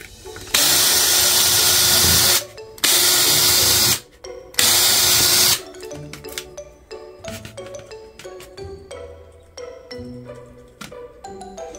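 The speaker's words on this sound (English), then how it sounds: "I need to drill these three holes that I marked out right there with pen" Power drill boring three marked holes into a DIY doll's head, three loud sustained whines of about two seconds each with short gaps, then quieter handling clatter and small knocks.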